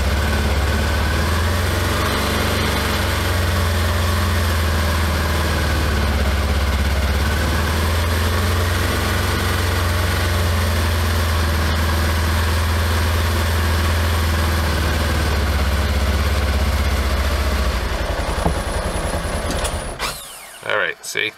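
A 2021 Polaris Ranger 1000 with clutch trouble idles roughly, its engine holding a loud, continuous low mechanical drone with a faint ratcheting texture, then sputtering and cutting out at the very end.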